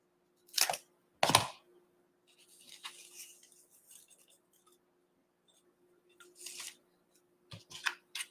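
Scissors cut paper for a spring craft with a few short, crisp snips close by. Quiet rustling of paper and faint handling noises fill the gaps, and no one speaks.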